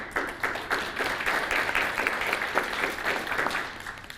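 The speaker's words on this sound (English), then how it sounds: "how about a round of applause for their hard work?" A forum audience gives a round of applause, steady dense clapping from many hands, fairly distant and moderate in level, sustained throughout without talk.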